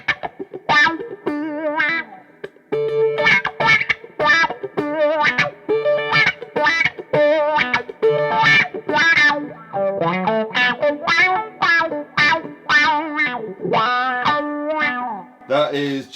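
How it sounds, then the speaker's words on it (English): Electric guitar played through a wah-wah pedal with distortion, heard as a close, continuous run of sweeping, vocal-like quacking notes and chords played alone. "here's a bit of sound with the wah-wah"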